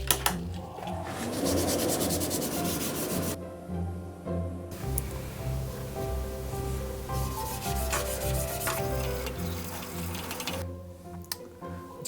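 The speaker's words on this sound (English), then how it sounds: "Time for a quick sand and then we can get staining." Steady rubbing of sandpaper on a wooden wand, a continuous rasping scrape that pauses briefly and resumes, under light background music.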